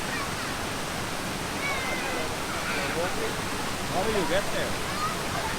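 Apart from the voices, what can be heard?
waterfall in the Philippines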